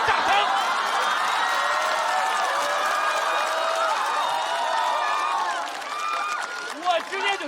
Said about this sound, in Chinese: 听懂掌声